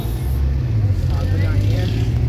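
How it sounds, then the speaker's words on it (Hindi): Heavy road traffic makes a steady low rumble of engines close by. Speech carries over the top throughout. "too much traffic"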